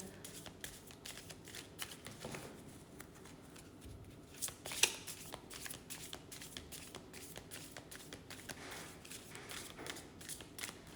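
Quiet, repeated riffling of playing cards being shuffled for a Gypsy card reading, soft rapid flutters with a few sharper snaps, no talking.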